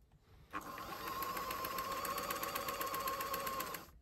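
A Bernina 730 Record sewing machine, just fitted with a new capacitor, starts up and runs at speed for about three seconds, a steady fast rhythmic whirring clatter with a high whine, close and alone before stopping.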